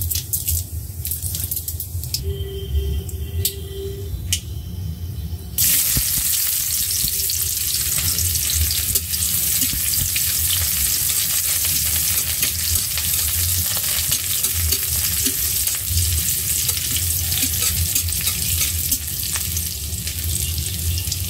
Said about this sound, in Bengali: তেল গরম করে নিয়ে পাঁচফোড়ন দিয়ে দিলাম।